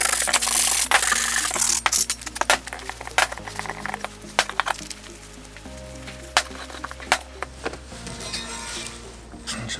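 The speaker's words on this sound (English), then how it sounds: "we're going to have to rub this down with emery" Rusty metal parts from a golf buggy being rubbed down by hand with emery cloth, a steady close scratching and scraping with sharp irregular strokes throughout, no voices.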